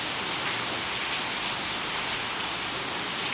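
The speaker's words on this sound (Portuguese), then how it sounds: "eu ouvi o barulhinho da chuva tão bom, né? No telhado" Steady broadband hiss of rain drumming on a roof, continuous and even throughout with no distinct drops standing out, heard alone without any voices.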